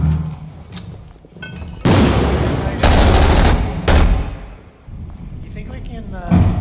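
Grenade blast in a tactical shooter game with procedurally generated maps: a loud, broad explosion with a long rumbling tail follows sharper booms and shots, mixed with voices talking between the bursts.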